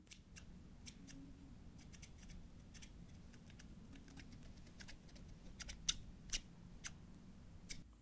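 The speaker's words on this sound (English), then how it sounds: "Just got my scissors here and I'm just gonna take your hair." Scissors snip hair on a big fountain-style ponytail in a quiet haircut role-play setting, giving a series of crisp, close metallic cuts over a soft steady background, with sharper, louder snips near the end.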